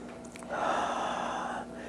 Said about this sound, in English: Taking a deep breath in, thinking the words, I breathe in God